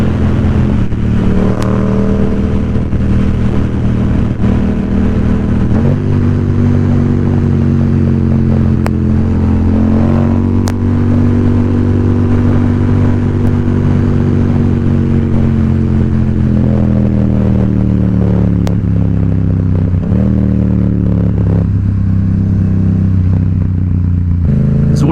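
A Yamaha XSR700 motorcycle is ridden in cold weather, its engine droning loud and close with a steady hum that rises and falls in pitch as it accelerates and shifts, mixed with wind noise.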